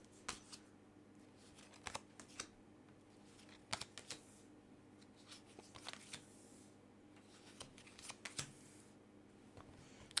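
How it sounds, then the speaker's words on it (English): Tarot cards being split and laid down one by one for a love reading, heard as soft, close shuffling snaps and light taps in sparse bursts over a quiet room. "Now I'm going to split this deck and begin by placing down 5 cards"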